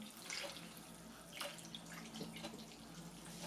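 Water from a glass poured into a pot of sour sauerkraut bigos with cabbage juice, set for a slow cooker; a soft, steady trickle and splashing running for a few seconds with brief brighter splashes, fairly close and alone.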